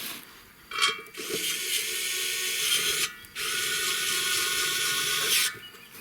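A rechargeable Type-C electric screwdriver drives bolts during repair of a rotary mower, giving a short whirr followed by two long, steady motor runs, close and loud with no talk.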